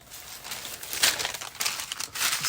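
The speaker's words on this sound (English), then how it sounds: "I love the crinkle." Dry coffee-dyed paper pages being handled and crinkled, producing a continuous run of crackling rustles that swell in bursts, close and fairly loud, with no voices.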